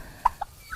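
A turkey gives two short gobbling calls, fairly close, followed by a faint third call against quiet outdoor background at Lahor Reservoir, Malang, Indonesia.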